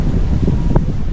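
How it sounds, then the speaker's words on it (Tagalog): Strong wind on a hilltop buffets the microphone with a constant low roar and rumbling gusts. "Ang lakas ng hangin dito sa taas."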